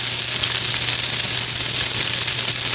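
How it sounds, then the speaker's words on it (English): Fish sears over medium-low heat in a hot pan to build a crispy crust, giving a loud, steady sizzle that holds unbroken from start to finish, with a faint low hum beneath and no talking. "It's a medium sizzle. It's a medium-low sizzle"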